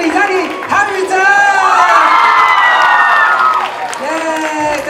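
Audience at a film premiere cheers and whoops loudly with applause as cast members come out, a dense sustained roar with high shouting voices throughout.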